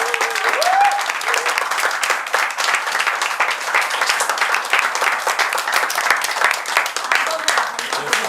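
Sustained applause from a hall full of people at a Korean party general assembly, dense and steady clapping at close range throughout, with no voices standing out.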